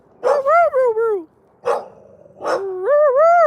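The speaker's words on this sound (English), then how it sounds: "but that's my neighbor's dog" A neighbor's dog lets out three close, loud, drawn-out howling barks with long rising and falling tones, each separated by short pauses.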